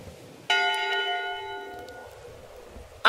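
A single ship's bell in the video game Return to Monkey Island strikes once, ringing clearly and sustaining as it slowly decays, followed by a brief noise at the end.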